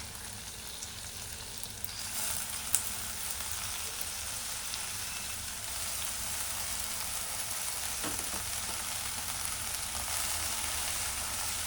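Mixed leafy greens fry with okra in a pan, giving a continuous, fairly loud crackling sizzle that holds steady throughout with a brief clink near the start.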